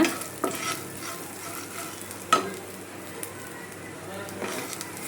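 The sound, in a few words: fenugreek masala frying in a pan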